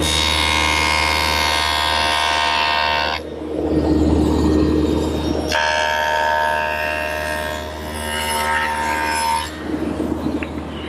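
Table saw fitted with a dado head cutting a rabbet along the top inside edge of a mesquite front rail, a loud steady whine that drops into a heavier cutting growl midway, then returns to the free-spinning hum.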